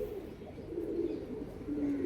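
Madrasi-breed pigeons cooing softly at a steady low murmur, a continuous layered cooing close by with no talk.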